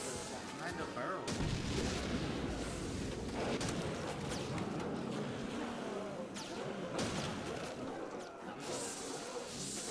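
Barrels explode in a zombies video game, a run of loud booming blasts and gunfire-like bursts amid constant chaotic game noise, with someone talking over it.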